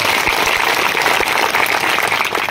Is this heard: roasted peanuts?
no